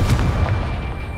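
Confringo fire spell in the video game Hogwarts Legacy, a booming blast with a deep low rumble that bursts at once and decays over about a second, loud and close with no talk.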